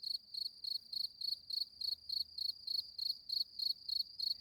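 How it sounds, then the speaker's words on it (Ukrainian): Crickets or cicadas chirp in the steppe in May, a steady, regular pulse of bright trills, about three per second, with a quiet open-air background beneath. "Цикади або цвіркуни співають."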